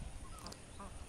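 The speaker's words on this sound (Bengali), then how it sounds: "যেহেতু এখন আবদ্ধ অবস্থায় পালছি হাঁসগুলো" Ducks kept in a netted enclosure give a few brief, faint quacks against a noisy background, short nasal calls from some distance.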